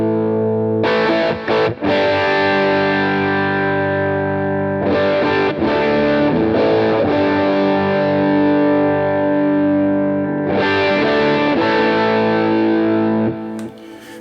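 A heavily overdriven electric guitar plays sustained, distorted chords and notes through an amp cab with the drive set high, loud and thick with ringing harmonics and no voices.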